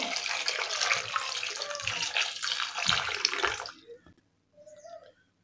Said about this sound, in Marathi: तर याच्यावरती मी थोडंसं पाणी टाकते